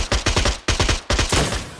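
Video game gunfire during a night tournament grand final: loud rapid bursts of automatic shots in three quick volleys, each a run of sharp evenly spaced cracks with brief gaps between them.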